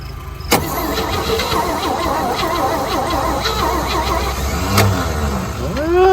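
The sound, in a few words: 1963 one-ton truck engine cranking, trying to start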